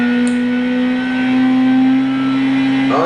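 A Honda Civic's engine in Gran Turismo 6 drones at a steady, loud pitch as the car laps the Brands Hatch Indy circuit, the tone rising slightly before a brief rough burst at the end.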